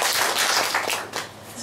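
An audience claps at a talk on agricultural brand strategy, a short burst of scattered, uneven hand claps from a small group, fairly close and fading toward the end.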